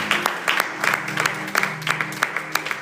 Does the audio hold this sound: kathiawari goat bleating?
no